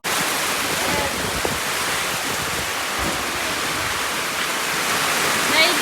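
Heavy rain pours down steadily on a village, a dense, loud, unbroken hiss of falling water with no pauses.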